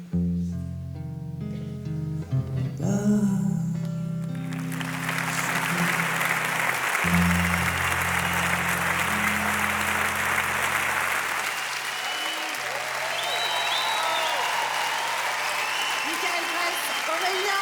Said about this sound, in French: Michael Gress, Aurélien Oudon, on peut les applaudir très fort, merci.